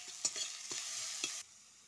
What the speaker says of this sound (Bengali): তেল গরম হয়ে গেছে, এবারে মশলাগুলো আমি ভেজে নেব।